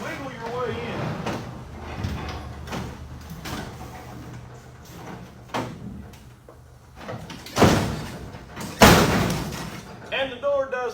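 A Plymouth Barracuda's car door being pulled shut, two loud thuds near the end after quieter rustling and movement, with the door failing to latch properly; someone talks throughout.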